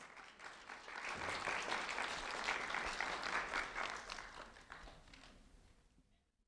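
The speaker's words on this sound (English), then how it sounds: "a round of applause for Kapasia Johnson" An audience applauds a fourth-grade student at an award event. The clapping starts after a moment, holds steady and dense, then fades out toward the end.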